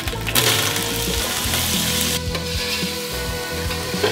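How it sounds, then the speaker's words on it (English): Cured pork belly pancetta sizzles and crackles loudly in a hot pan as it renders down, a dense continuous frying hiss with occasional stirring knocks and no voices. "We're gonna render down the pancetta until it gets nice and crispy"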